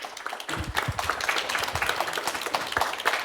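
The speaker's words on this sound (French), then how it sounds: "Merci beaucoup, merci pour les applaudissements." An audience at a business financial-education training session breaks into applause, a dense wash of many hands clapping close and steady for a few seconds, with a voice briefly mixed in.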